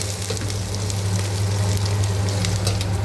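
Vegetables tempering in hot oil in a home kitchen, a steady close crackling sizzle with sharp spitting pops over a low hum, no one speaking.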